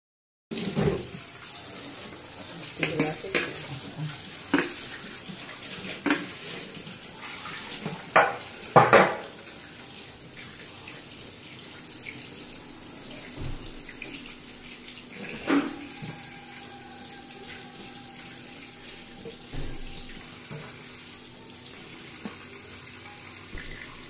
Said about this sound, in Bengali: আমার মাছটা কাটা হয়ে গেছে, এবার আমি জল দিয়ে পরিষ্কার করে ধুয়ে নিই